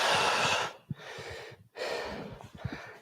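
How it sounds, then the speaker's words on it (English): A person draws a long, deep breath in and then lets it out in a slow, noisy exhale, close and alone, during a live Okinawan bojutsu bo staff martial arts class. "Take a deep breath in. And out."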